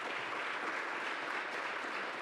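Audience applause at a panel on women's rights in France's overseas territories, a continuous wash of many hands clapping, even and somewhat distant, without speech over it.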